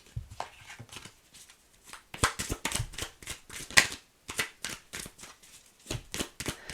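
Tarot cards being shuffled by hand: a run of quick, crisp papery riffles and slaps in uneven bursts, close and fairly quiet, with no talking.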